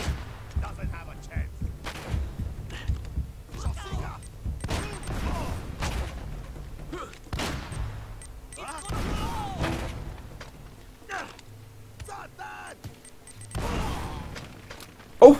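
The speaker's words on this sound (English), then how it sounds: "Wasted all the grenades" Grenade explosions in the video game Uncharted: Drake's Fortune: booming blasts and gunfire-like bursts scattered across about fifteen seconds, mixed with a player's excited talking.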